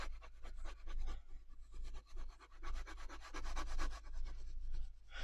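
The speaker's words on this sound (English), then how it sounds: "And then I'll come in and just give that a burnish." Paper image being burnished onto a junk journal page, a steady dry rubbing that sweeps back and forth in quick repeated strokes, close and fairly loud, with no talking.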